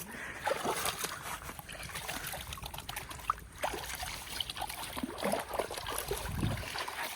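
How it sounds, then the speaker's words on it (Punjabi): Water splashing and trickling as feet are washed beside an overloaded rickshaw, an uneven running dribble with occasional splashes, close by and moderately quiet, with no speech. "ਹੁਣ ਪੈਰ ਧੋ ਲਈਏ"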